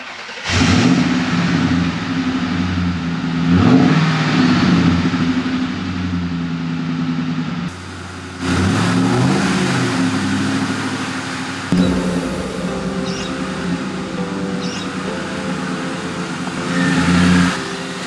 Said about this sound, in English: So speaking about the engine, let's start it up.